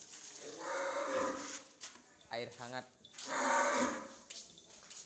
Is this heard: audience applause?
no